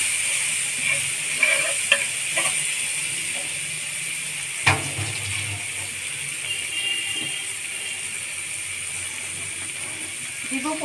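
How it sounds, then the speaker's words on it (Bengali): Dried chillies, bay leaf, cinnamon, cardamom, cloves and ginger-garlic paste fry in a pan for a fish bhuna, giving a soft, steady sizzle with a few sharp clinks of a spoon stirring against the pan. "দিয়ে আমি সুন্দর করে ভেজে নেব"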